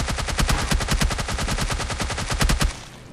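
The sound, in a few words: gunfire in PUBG Mobile Lite video game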